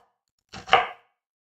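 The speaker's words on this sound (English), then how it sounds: "So we're gonna cut the onion very small" An onion is chopped with a knife in two quick, close cuts against a board, then silence.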